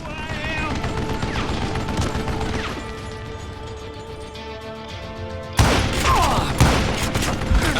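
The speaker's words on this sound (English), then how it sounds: "I'm shooting right at him." Steady rattling gunfire in a video game, rapid repeated shots over a humming background, easing slightly in the middle before a sudden louder burst of blasts and crashes near the end.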